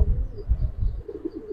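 A Giribaz pigeon in a loft gives a short run of low, pulsing coos, close and fairly soft, with no voices.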